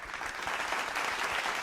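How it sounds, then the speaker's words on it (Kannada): Audience applause on a Kannada singing reality show, a dense steady burst of many hands clapping together, loud and even throughout with no talk over it. "ಆಹಾ, ಬರಲಿ ಒಂದು ಚಪ್ಪಾಳೆ"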